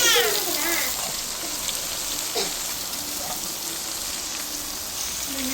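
Thinly sliced cabbage, beans and carrot stir-fry in hot oil for a mixed vegetable poriyal, a continuous bright sizzling hiss that stays even and close, with soft stirring scrapes under it.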